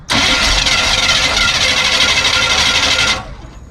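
A classic milk truck engine cranks and catches, roaring loudly and steadily for about three seconds before cutting off abruptly.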